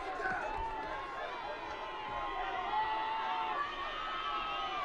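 High school football crowd at District 6 Stadium in Greeley, Colorado cheering on the Greeley West Spartans against Brighton: a distant, sustained roar of voices with scattered shouts, fairly faint and continuous.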